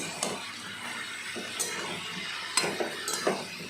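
A spiced curry is stirred in a pan with a low sizzle under irregular scraping strokes and a few brighter clinks of the utensil against the pan, close by and with no talk.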